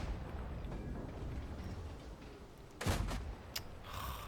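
Two tank cannon shots in World of Tanks fired from a damaged gun, a loud boom followed by a sharper second blast over a steady engine rumble.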